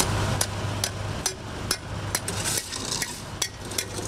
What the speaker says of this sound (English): What you see is workers putting down a cold mix.